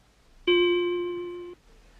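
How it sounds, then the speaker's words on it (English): A single struck bell tone with inharmonic overtones rings out cleanly and steadily for about a second, then stops abruptly, with no other sound around it. "Take a bell, for example."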